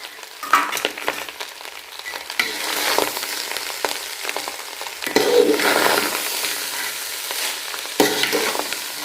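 Fried rice with carrot, beans and capsicum is stir-fried in oil, giving a steady close sizzle with repeated scraping and tossing strokes of the spatula across the pan throughout.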